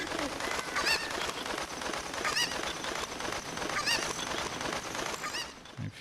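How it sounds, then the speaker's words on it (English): Cucco chickens squawk and cluck in The Legend of Zelda: Ocarina of Time Master Quest, repeated shrill calls recurring every second or so over a dense, busy game soundscape. "we're going to pick up a chicken"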